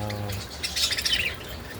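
Soft, high twittering chirps from a pied budgerigar, fairly faint over a low background hum, with no talking.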